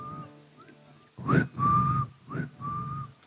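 A person whistles in imitation of a parrot, giving a few short, clear rising and steady whistle notes with brief gaps between them, close and distinct against a quiet background.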